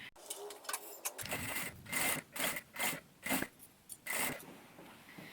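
A sewing machine stitches a fabric tote bag seam about one centimetre from the edge, running in several short bursts of mechanical whirring separated by brief pauses, close and fairly quiet.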